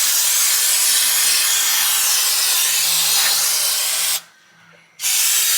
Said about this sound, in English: it comes out a little bit more like an aerosol than like a big heavy stream